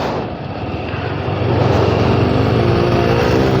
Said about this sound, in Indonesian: pertama itu suara mesin saya itu jauh lebih halus ya jika dibandingkan dengan oli-oli yang